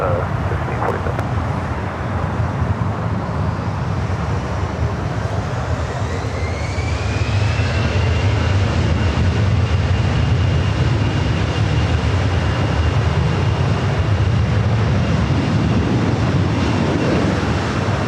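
Jet airliner engines roar steadily at Los Angeles LAX airport, a loud sustained broadband rumble with a rising whine appearing midway as the aircraft powers up for takeoff, with no talk over it.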